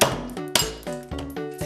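A hammer pounds potato chips for a chip spread recipe, with several sharp strikes at an uneven pace, each a crisp ringing crack that fades quickly, close and fairly loud with no talking.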